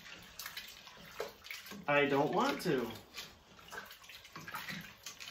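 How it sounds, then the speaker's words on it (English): Homemade broth for a northern bean soup is poured into a pot, giving a steady liquid splash that runs beneath a person talking throughout. "broth that I make myself that I am throwing in this pot"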